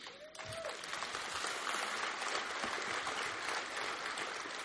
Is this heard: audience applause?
yes